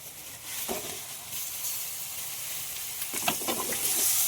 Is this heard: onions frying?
yes